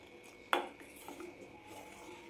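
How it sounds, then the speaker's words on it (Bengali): A spoon knocks once against a pot of milk while stirring, a faint metallic clink followed by soft scraping and light rubbing in a quiet kitchen. "এগুলোকে একটু চামচ দিয়ে এইভাবে করে দুধের সঙ্গে মিশিয়ে নেবেন"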